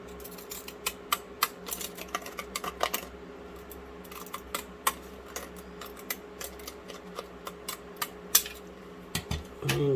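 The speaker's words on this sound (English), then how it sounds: "I'm not the best at cutting with these scissors" Rapid, uneven snipping clicks of scissors cutting paper, close by, repeating throughout over a quiet background hum.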